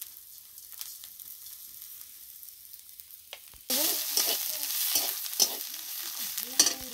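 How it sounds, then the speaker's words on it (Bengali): Bhetkol (ghatkol) stalks stirred with turmeric in a wok, soft spatula scrapes and faint sizzling, then a sudden louder burst of frying hiss with repeated clinking, scraping strokes up close. "আরো একটু ভালো করে নেড়ে নেব"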